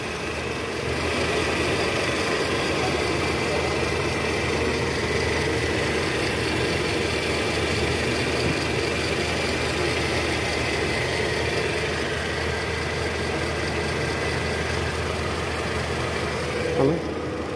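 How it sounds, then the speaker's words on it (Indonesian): A 2002 Toyota Camry engine idles after an oil leak repair to the valve cover, timing cover and oil pan, a steady close rumble running unchanged throughout. "Sejauh ini mesin aman ya setelah perbaikan kebocoran oli mesin. Suara mesin juga normal."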